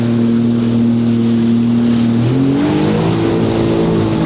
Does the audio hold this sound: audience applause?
no